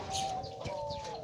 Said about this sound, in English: more diamond dove, more diamond dove